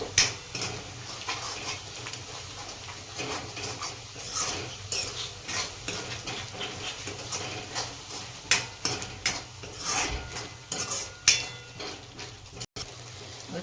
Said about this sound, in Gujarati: એક મોટી ચમચી ધાણા જીરું પાવડર નાખીશું બધું મિક્સ કરી દઈશું